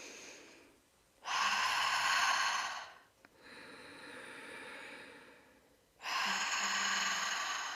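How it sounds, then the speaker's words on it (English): Slow, deep breathing practice: two long, loud, breathy inhalations or exhalations close to the mic, separated by a softer, quieter breath, with no talking. "Heart breath, holographic heart breath is a very powerful practice where you're breathing"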